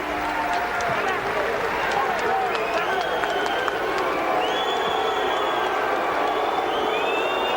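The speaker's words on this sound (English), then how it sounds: "Much of the crowd booing Pernell as he stands on the ring ropes in the corner in his characteristic victory gesture." A boxing arena crowd boos Pernell Whitaker after his bout with Julio Cesar Vasquez, a broad roar of many voices with whistles, heard under close commentary from a ringside announcer.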